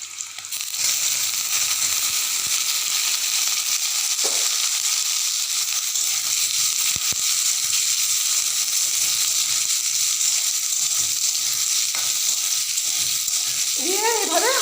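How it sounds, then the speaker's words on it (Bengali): Potatoes fry in a pan of hot oil with nigella seeds, giving a loud, even sizzle that runs unbroken from start to end, with a few faint clinks underneath. "তারপর দিয়ে দেবো আমি এখানে প্রথমে আলুগুলি দিয়ে দেবো।"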